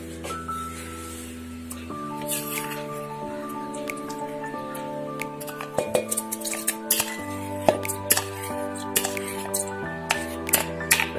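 Cooked bottle gourd is spooned into a mixer jar, giving a scatter of light clinks and taps on the jar. The clinks grow sharper toward the end, over steady background music.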